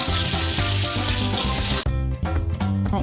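Crispy battered fried chicken sizzles loudly in hot oil, a dense crackling hiss that cuts off abruptly partway through and gives way to quieter clinks and rattles.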